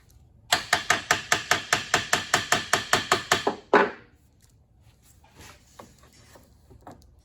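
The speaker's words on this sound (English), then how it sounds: "Maybe I need to tap it with the hammer." Hammer taps on a Richline sliding dovetail machine at a workbench: about sixteen sharp, evenly spaced metallic strikes in quick succession, ending with one heavier blow, followed by faint clicks and handling noise.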